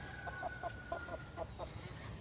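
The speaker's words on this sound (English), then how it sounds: "I love listening to chickens when they talk like that." Chickens make soft, repeated clucks outdoors among growing grass, about eight short calls spaced at a fairly even rhythm, fairly close and quiet over a steady low background rumble.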